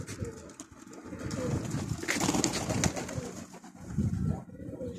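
Pigeons cooing close by at a rooftop coop, soft continuous throaty coos and rustling over a low background, with no speech.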